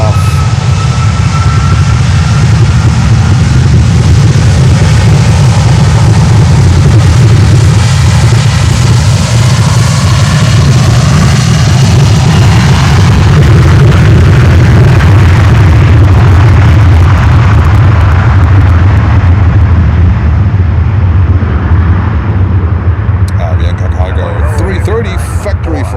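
Heavy cargo jet taking off from Miami airport runway 9, a loud sustained engine roar rumbling steadily, with radio voices speaking over it.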